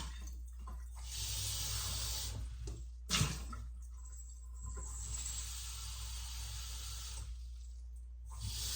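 Tap water runs steadily into a glass at home, a continuous close hiss with a brief clink partway through, then a short pause before the flow resumes.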